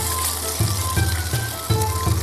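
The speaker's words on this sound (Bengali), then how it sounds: "তেলটা একটু গরম হয়ে গেলে আমরা এখানে যেটা নুডলসটা রয়েছে আমরা ছাড়িয়ে নিয়েছি, নুডলসটা আমি এর মধ্যে দিয়ে দিচ্ছি।" Noodles fry in hot oil in a wok for Chinese-style gravy noodles, giving a steady close crackling sizzle with soft rhythmic pulses as they are moved about.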